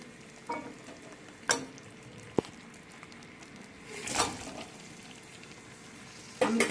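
Amla (Indian gooseberries) are stirred and fried with spices and melted rock sugar in a pan. A faint steady sizzle runs throughout, broken by a few louder scrapes and clatters from stirring.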